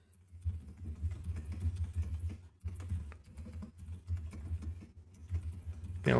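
Quick, steady clicking of a computer keyboard during C++ and OpenGL programming, close and continuous over a low background hum, with brief pauses between bursts of keystrokes.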